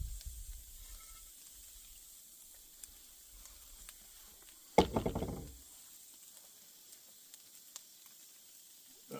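A tomahawk steak sears on a Weber grill in a quiet outdoor setting. A sudden loud hiss and crackle bursts out midway and fades over about a second, with faint ticks and low rumbles before and after.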